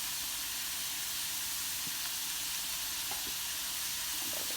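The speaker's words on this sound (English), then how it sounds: "So I'm going to let this saute for maybe about 5 to 10 minutes" Vegetables with berbere spice sauteing in a hot pan give a steady, close sizzle and hiss throughout, with a few faint clinks near the end and no talking.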